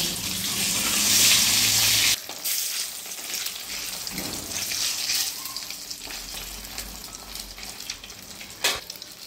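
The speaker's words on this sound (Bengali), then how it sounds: "এবার আমি ডিম দুটো ভেজে নেব।" Two duck eggs fry in hot mustard oil with turmeric in a wok, making a loud, dense sizzle that drops sharply after a couple of seconds. It then continues at a lower crackle with occasional sharp spikes.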